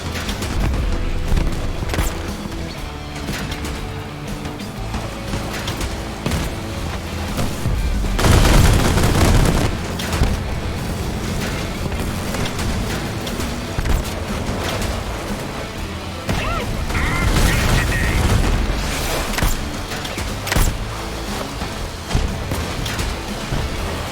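Rapid gunfire aimed at a vehicle's wheels in the vehicle combat game Crossout, loud dense bursts with heavy booms and crashes running throughout, swelling in intensity in a couple of stretches.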